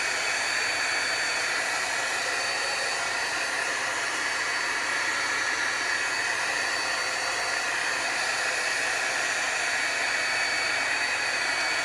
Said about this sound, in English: I have this dryer because I used it and will still use it for when I emboss stamps with embossing powder.